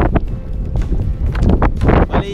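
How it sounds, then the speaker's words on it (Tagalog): Strong wind at sea gusts hard against the microphone on a boat, a loud, rough buffeting roar with bursts and rattling, no speech heard. "Lakas ang hangin."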